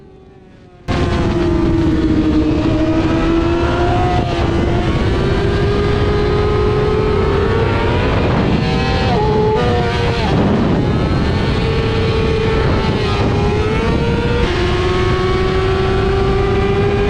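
A racing motorcycle engine roars steadily at high revs on the Mugello circuit, pitch rising and dipping with gear changes, loud and continuous.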